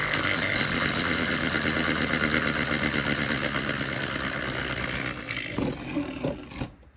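A Beyblade B-191 Overdrive top spinning in a stadium, a steady close whirring rattle that holds for several seconds and then fades and scatters as it slows, with no talk.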